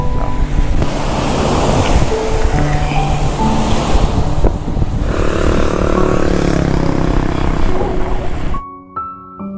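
Ocean surf seen from a high overlook above the shore, a steady loud wash of waves mixed with heavy wind buffeting the microphone, continuous throughout before cutting off abruptly near the end.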